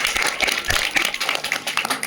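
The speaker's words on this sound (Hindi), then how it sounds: "एक बार जोरदार ताली बजाओ गुरुजी के लिए।" Audience clapping at a religious gathering honoring an elderly guru, a dense burst of rapid hand claps at steady loudness throughout, close and lively with no talk over it.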